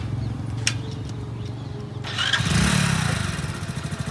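A motorcycle engine starting up nearby, with a couple of faint clicks followed by the engine catching at about two seconds and settling into a steady, throbbing idle.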